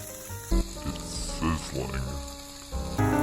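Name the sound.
food sizzling in a wok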